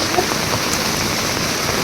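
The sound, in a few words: heavy rain in Surat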